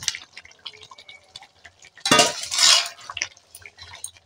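Fried potatoes drop into a simmering meat curry gravy with a short wet splash and stir of about a second, amid light clinks of pots and utensils in a quiet kitchen.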